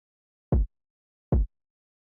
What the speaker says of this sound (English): the way I made this was I took this kind of like nice trap kick,